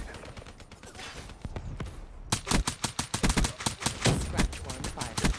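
Gunfire in the video game Call of Duty Black Ops, rapid bursts of shots that grow louder and denser midway, with a voice briefly audible among them.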